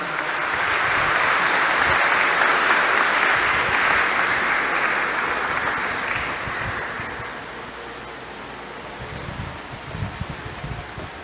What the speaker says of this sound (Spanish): Un fuerte aplauso, que se sienta.